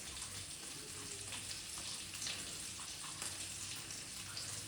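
Bangude, a mackerel, fries on a tawa with a steady, quiet sizzle and crackle that runs without a break. Now and then faint spits and taps sound over it.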